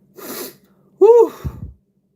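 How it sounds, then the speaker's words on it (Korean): A single person sneezes once, a sharp close burst preceded by a short breathy intake, with no other sound around it. "아, 재채기."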